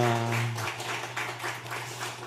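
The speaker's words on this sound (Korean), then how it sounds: "우리 힘찬 박수 한번 부탁드리겠습니다" A church congregation claps during a Sunday worship service, soft and fairly distant, with a sustained tone fading out at the start.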